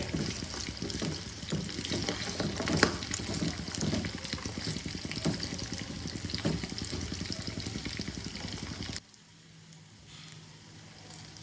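Fish pieces fry in oil in a kadhai with a dense, steady crackle and spatter, close up, for about nine seconds before cutting to a much quieter, faint background.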